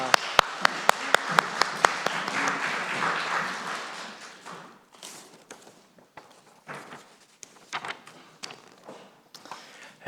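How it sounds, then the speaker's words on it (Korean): Congregation applause during a Sunday morning church service at an air force base chapel, strong clapping that swells and then fades by about four seconds, leaving scattered taps and movement. "하나님께 영광의 박수 올려드리겠습니다."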